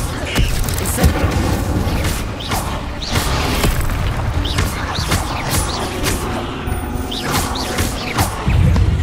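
Incendio fire spell cast in Hogwarts Legacy, heard amid a busy battle of repeated booms, crashes and whooshing spell blasts, loud and close with a brief voice among them.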